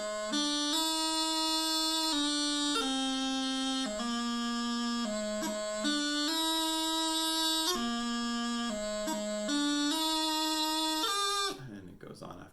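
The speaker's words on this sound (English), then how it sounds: "I'm going to just play it nice and slow and controlled with heavy D throws that are nice and open, so you can practice along." A Great Highland Bagpipe plays slow, heavy D throws over its constant drone: a loud, close melody of held notes broken by quick grace-note flourishes. The piping stops abruptly near the end.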